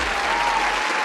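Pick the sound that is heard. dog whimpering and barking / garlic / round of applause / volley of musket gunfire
round of applause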